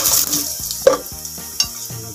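Sautéing in cooking oil in a pan for chicken sotanghon, with a brief sizzle and a few clinking stirring strokes of a utensil against the pan, close and alone.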